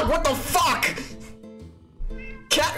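A cat in the video game Dialtown meows several times, loud, close and drawn out, with someone speaking excitedly between and over the calls.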